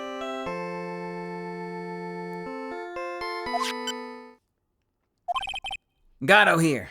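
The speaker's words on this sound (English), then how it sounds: "What kind of ringtone is that?" In the Ace Attorney video game, a phone ringtone plays as a sustained, layered electronic melody of held tones for about four seconds, followed by brief chiming beeps and then a voice speaking.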